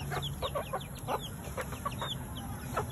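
Several chickens cluck in short, repeated bursts over a steady background hiss, some nearby and others farther off.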